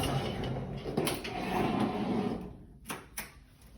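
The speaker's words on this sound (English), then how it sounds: "Bifold closet doors." Bifold closet doors in an apartment bedroom folding and sliding along their track, a soft rolling rumble for a couple of seconds followed by two quick, sharp clicks as the panels settle, quiet and close in a still room.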